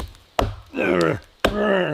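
Two sharp chops of an axe biting into a standing tree trunk in a forest, each sharp crack followed by a strained grunting voice between the strokes.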